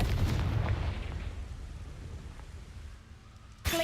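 A Confringo fire spell from Hogwarts Legacy bursts at the start, a loud booming explosion whose low rumble decays over several seconds before a sharp new crack near the end.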